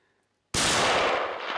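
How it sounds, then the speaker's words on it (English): A hunting rifle fires one loud, sharp shot at a bull moose in the Alaskan wild, cutting into near silence and followed by a long, rolling echo that slowly fades. "Go ahead and shoot him."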